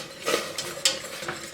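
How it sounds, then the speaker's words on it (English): Spoon stirring pectin into a pot of jalapeno pepper jelly over medium-high heat, a few soft scraping clinks against the pot with one brighter knock, close and fairly quiet. "Stir it well."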